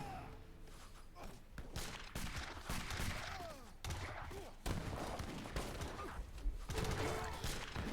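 Leather cannons firing during an Age of Empires III match, a dense busy battle mix of repeated booming shots and thuds with clattering mechanisms, loud and continuous throughout.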